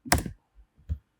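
A few key presses on a computer keyboard while a web address is entered, one sharp clack followed by a soft tap and a final thud, close and isolated.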